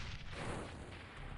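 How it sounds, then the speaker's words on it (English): Explosions in the X-piratez video game make a dense, rumbling burst of low booms that stays fairly steady over a short stretch, with no voices. "Explosions."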